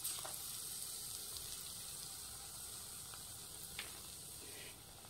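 Raw banana bajji frying in hot oil over a low flame, a steady close sizzle and hiss with a few brief pops and no talking.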